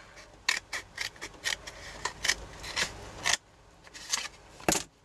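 Scissors snip along the edge of a piece of card in a close series of crisp, fairly quiet cuts at an uneven pace, with a short gap before a final snip.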